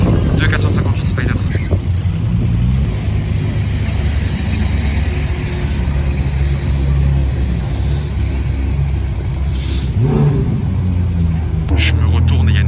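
Two Ferrari 458 Spider sports cars pull out on a Monaco street, their engines rumbling at low revs and swelling briefly near the end amid street noise, with someone talking over them.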